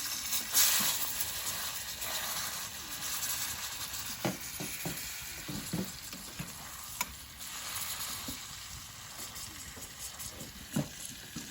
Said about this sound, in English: I'm going to try to sear it without burning it.